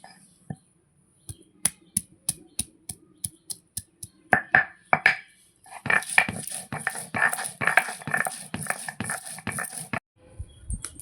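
Ginger and cumin are crushed on a grinding stone in steady, rhythmic strokes that start sparse and crisp, then speed into a denser run of scraping, thudding pulses before easing near the end.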